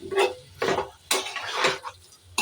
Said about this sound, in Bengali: দেখো ভালো করে কষে গেছে।